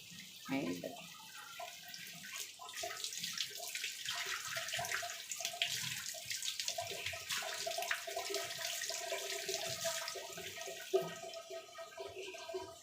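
Tap water runs and splashes as tilapia fish pieces are rinsed by hand in a kitchen, a continuous moderate gush with faint voices or background sound beneath it.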